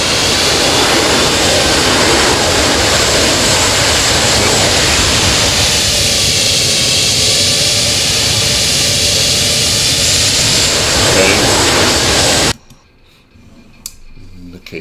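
An airplane rolls along an icy Alaska runway just after touchdown, with a loud, steady roar of engine and rushing noise that ends abruptly near the finish, followed by a quieter interior.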